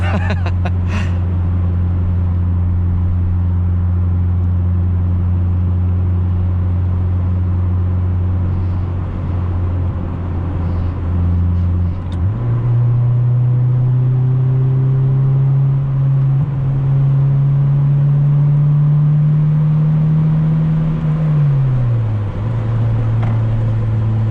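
A 1997 Acura Integra drives with a steady engine drone that drops, then jumps to a higher pitch after a gear change and dips again later, close and continuous under road noise.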